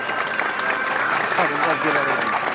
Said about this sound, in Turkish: Kendilerini alkışlıyoruz efendim.